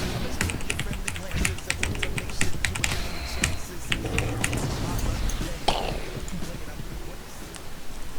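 Rapid clacking of a computer keyboard picked up by a nearby microphone during a Metronomicon speedrun match, dense irregular keystrokes running throughout under a voice talking.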